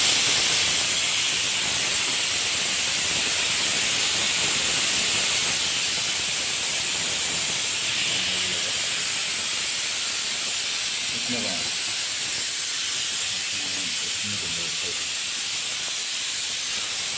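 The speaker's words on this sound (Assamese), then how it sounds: "প্ৰেছাৰ কুকাৰ চিটি মাৰি" A pressure cooker whistle in a home kitchen, where flatbread is being rolled for a meal of rice and dal, releases a continuous loud hiss of steam that runs the whole time, with faint clatter underneath.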